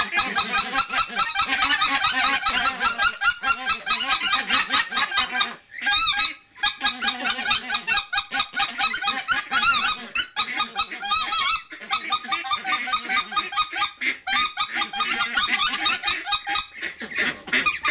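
A Schoolhunter Dominator mouth-blown goose call sounds a long run of rapid, loud white-fronted goose yelps and honks, close and continuous with a few brief pauses.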